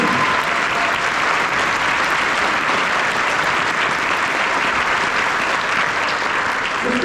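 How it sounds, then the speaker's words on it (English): Loud, sustained audience applause fills a concert hall after a middle school honor band performance, a thick continuous roar of many hands clapping at full strength from start to finish. "We get one more round of applause for these kids and these kids"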